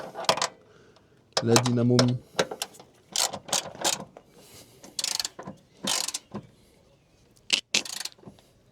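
A ratchet wrench clicks in short bursts while tightening the alternator on a Honda Civic EJ9, close and crisp, with brief pauses, metallic clinks and some voice sounds between the bursts.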